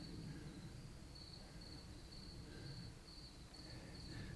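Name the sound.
crickets chirping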